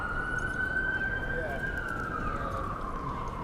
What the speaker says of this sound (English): I hear sirens off in the distance